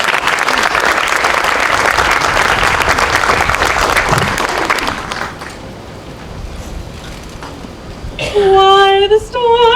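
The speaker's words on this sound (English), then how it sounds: "Can we get a round of applause for Diana?" Outdoor crowd applauding at a Flag Day celebration in Batavia, dense clapping for about five seconds that thins out, followed by a sustained sung note over the quieter crowd.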